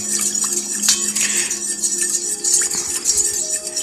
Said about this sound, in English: I'm going to stir this up real well